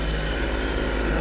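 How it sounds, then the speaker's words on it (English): Supercharged engine of a 2018 Scarab 195 ID jet boat running steadily, a sustained high whine riding over a low, constant engine drone, close and alone for about a second. "Hear the whistle of that supercharger on there."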